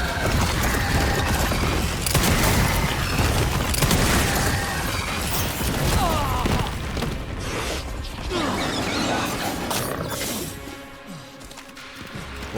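Dense gunfire and crashing impacts pound through a Resident Evil survival-horror game. Repeated booms and mechanical clatter run almost continuously, then ease off near the end.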